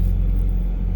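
2023 Toyota GR86 Premium sports car idling, a brief steady low engine hum heard close and fairly loud, with no speech.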